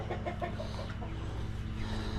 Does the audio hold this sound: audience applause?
no